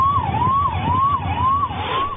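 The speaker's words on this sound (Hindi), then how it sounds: "बजता रहा एम्बुलेंस का सायरन।" An ambulance siren wails on a street in Damoh as a wedding procession blocks the road, a loud, regular rise-and-fall tone cycling about four times without speech.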